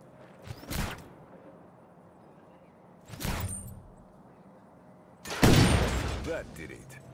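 Gunshots from the video game Just Cause ring out in three separate broadband bursts spread across the moment, with the last burst loudest and longest, over a quiet background.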